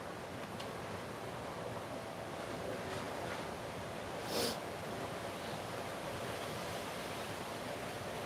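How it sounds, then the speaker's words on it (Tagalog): Steady outdoor wind blowing, a broad continuous rush with gusty buffeting on the microphone, moderately loud throughout with one brief stronger gust near the end, no voices. "Sarap ngayon, medyo mahangin sa labas."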